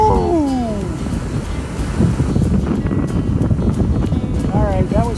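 Wind and rolling surf on Lake Michigan at Wilderness State Park give a steady roar and wash, with a voice faintly audible in the background over the water.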